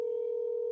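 A telephone call tone sounds as one steady, even electronic beep that fills the whole short moment, alone and fairly loud.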